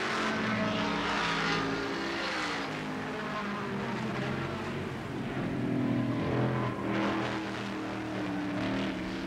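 Touring cars race at the 1971 Australian Grand Prix, their engines a loud continuous roar heard from trackside that swells and fades slightly as they pass, with no voices.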